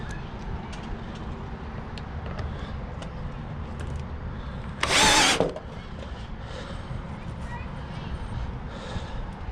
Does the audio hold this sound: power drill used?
yes